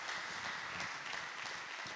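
Diffuse applause from a church congregation at the close of a service, a steady, even wash of many hands clapping at moderate distance with no distinct individual claps standing out.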